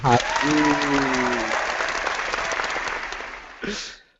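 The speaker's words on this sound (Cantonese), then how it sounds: "我哋俾啲掌聲佢啊" An audience breaks into applause right after a voice, a dense wash of clapping that gradually thins out, then a second short burst of clapping near the end.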